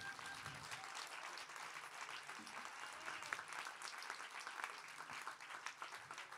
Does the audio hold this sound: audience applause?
yes